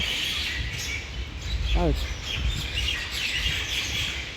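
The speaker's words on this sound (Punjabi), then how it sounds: "ਚੀਂ ਚੀਂ ਬਹੁਤ ਸੋਹਣੀ ਲੱਗ ਰਹੀ ਆ" Sparrows chirp and twitter in the background under steady outdoor noise, with a brief clear trill in the middle, while someone talks.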